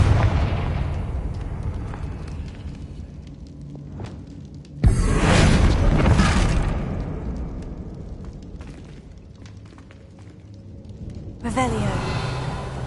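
A Confringo blasting spell explodes in a video game with a sudden loud burst and broad rumbling roar that swells and fades, followed by a second sharper blast near the end, over a steady game ambience.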